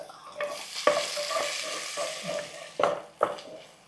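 Mustard seeds, cumin, fenugreek and dried red chillies tempering in hot oil, a steady close sizzle broken by sharper spattering bursts and occasional stirring scrapes.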